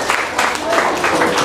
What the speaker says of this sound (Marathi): या सगळ्यांचं एकदा जोरदार टाळ्या वाजवून आपण